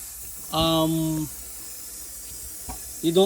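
Water rushing from a partly opened switch valve on a Watts Premier Filter-Pure UF3 water filtration system, a short spray-like hiss lasting under a second, then quieter flow with brief tonal squeaks near the end.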